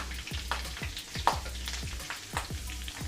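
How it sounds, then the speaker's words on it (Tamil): Two sprigs of curry leaves and green chillies fry in hot oil, making a steady sizzle broken by repeated scrapes and stirs of a spoon. No one speaks. "அடுத்தது இந்த ஆயிலே வந்து 2 கொத்த கருவேப்பிலையும் ஃப்ரை பண்ணிக்கலாம்"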